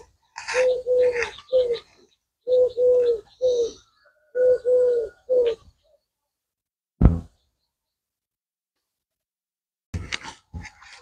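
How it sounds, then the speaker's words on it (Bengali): Pigeons coo in a forest on Sabuj Dweep, a green island near Kolkata: several clear, rhythmic bursts of low cooing close by, with brief chirps from other birds, a sharp single knock near the middle and short calls near the end. "এখানে যদি একটু শান্তভাবে থাকেন, প্রচুর পাখির ডাক শুনতে পাবেন।"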